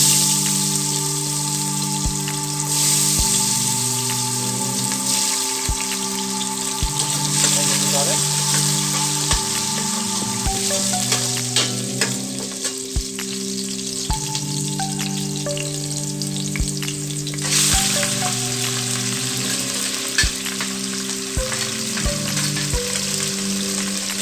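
Beef frying in a hot pot of oil for a Chinese stir fry, a steady close sizzle with crackling spatters, running on alone and unbroken under a droning tonal background hum.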